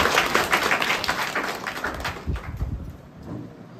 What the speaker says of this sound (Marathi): तुमचं अभिनंदन करण्यासाठी तुम्ही आधी टाळ्या वाजवाव्या असं मला वाटतं